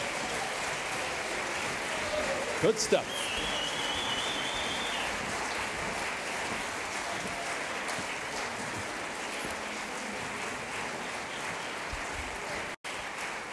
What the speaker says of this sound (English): you can give them a round of applause as they walk on stage.